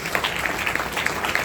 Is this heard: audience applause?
yes